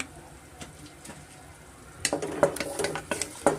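Masala frying in a pan with half a spoon of turmeric added for instant tomato bath, quiet at first, then brisk scraping and stirring clatter with sizzle building over the last seconds.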